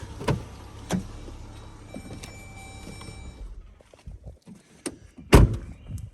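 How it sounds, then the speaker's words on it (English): A car parked at a forest campsite near a lake hums low for a few seconds until its engine is switched off. A few faint clicks follow, then one loud, sharp door thunk close by. "let's turn the car off and we'll take a walk down to the lake."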